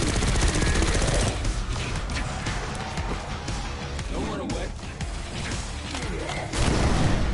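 Sustained automatic gunfire rattles through a Call of Duty Black Ops 6 campaign firefight, dense bursts with booms and crashes mixed in, loud and continuous across the whole stretch, with voices talking over the action.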